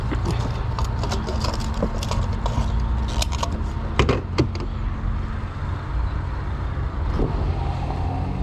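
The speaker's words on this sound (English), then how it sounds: "I forgot to turn off the car while fueling it up." A 2024 Mazda CX-90 SUV left idling while refueling, a steady low engine rumble with intermittent clicks and clanks from the pump nearby.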